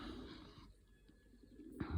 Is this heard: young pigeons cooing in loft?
yes